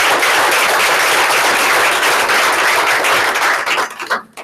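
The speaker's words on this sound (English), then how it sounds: "Big round of applause." Audience applause at a sales meeting, a dense sustained wash of many hands clapping at close range that tapers off in the final half second.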